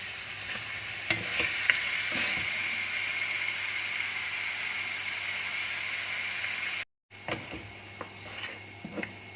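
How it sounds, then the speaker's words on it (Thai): Pork being stir-fried in a pan makes a continuous sizzle with repeated scraping and tapping of the utensil, broken by a brief silent gap near the end before the frying noise resumes. "ดี๋ยวผัดหมูให้เข้ากันก่อนนะคะ"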